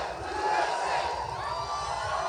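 A large rally crowd in Knoxville, Tennessee roars and chants, a dense sustained wall of many voices cheering at steady loudness throughout.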